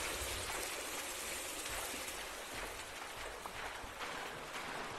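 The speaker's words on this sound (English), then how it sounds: "Very loud sinks." Loud running sinks in the video game The Classrooms, a steady broadband rush of gushing water that fills the whole stretch without a break, with a brief knock at the very end.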